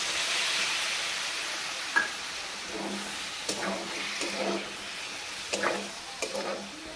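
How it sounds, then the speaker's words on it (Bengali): Onion paste and garlic paste frying in a pan, a steady close sizzle with scattered scrapes and clinks from stirring, and no talking. "আমি আগের থেকে পেঁয়াজ বাটা আর রসুন বাটা করে রাখছি, দিয়ে দেব।"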